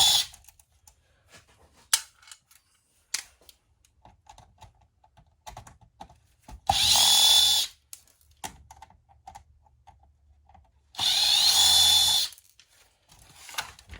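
A power drill backs screws out of a security system box for scrap, two loud whirring bursts several seconds apart between scattered clicks and handling taps, no talk.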